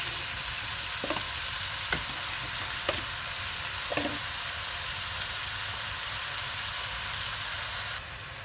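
Carrots stir-fry with oyster sauce as filling for vegetarian spring rolls, sizzling steadily up close, with a few soft clinks of a utensil stirring the pan.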